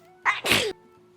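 A single close sneeze, a quick sharp intake followed by a loud burst, then quiet.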